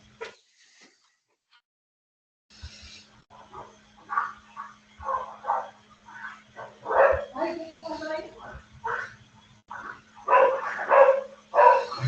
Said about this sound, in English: We can hear a dog.